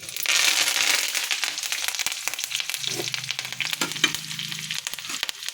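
Curry leaves dropped into hot oil already tempered with cumin and seasoning spices crackle and sizzle loudly and continuously, with a few sharper pops and stirring scrapes; no one speaks.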